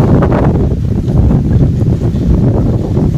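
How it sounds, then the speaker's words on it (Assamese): Strong wind roaring steadily and loudly across an outdoor rural garden with banana and areca trees, buffeting the microphone in continuous gusts, with no talking. "আজি মানে এনেকুৱা বতাহ মাৰিছে"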